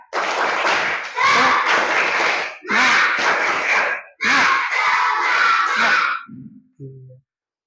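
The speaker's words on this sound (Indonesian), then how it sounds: "Mari kita tepuk semangat." A class of children performs the tepuk semangat rhythmic clap, loud bursts of patterned clapping with shouted chanting in several phrases, ending in a few quieter single claps.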